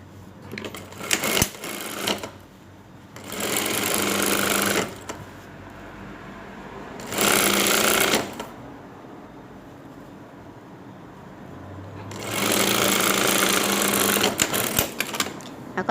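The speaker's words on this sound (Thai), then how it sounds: "มาดูที่ชิ้นหลังเราจะเย็บกลางกระโดงก่อนนะคะ" A sewing machine stitching the centre back seam of trousers during a garment alteration, loud and close in three separate runs of several seconds each, with clicks and handling noises between the bursts.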